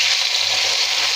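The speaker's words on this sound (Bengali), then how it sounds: "দিয়ে দিব গরম পানি" Hot water poured into a pan of frying ginger-garlic paste for chicken haleem, making a loud, steady, close hiss and bubbling sizzle that never lets up.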